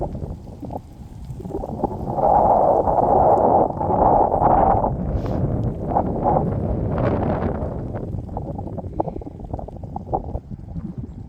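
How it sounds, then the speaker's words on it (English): Strong outdoor wind buffets the microphone in a continuous low roar, gusting louder in the middle and easing slightly toward the end. "The wind is picking up now."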